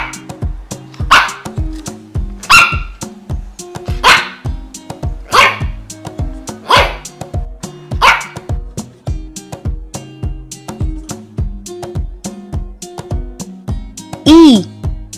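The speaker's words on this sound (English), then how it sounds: "Dog. And the sound of the dog is" A cartoon dog barks several times in a steady sequence over a bouncy children's music backing, loud and close, with no speech on top.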